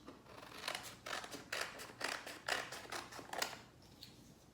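Scissors snip in quick repeated cuts, about a dozen crisp close strokes in an even rhythm, trimming the bottom edge of stacked paper pattern pages.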